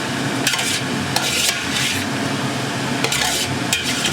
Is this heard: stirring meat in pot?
yes